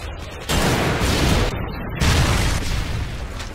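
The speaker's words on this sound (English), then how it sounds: "Predator missile inbound." Predator missile explosion in a multiplayer shooter game, heavy booming blasts with a loud rumbling roar, two big surges of noise close together and dense throughout.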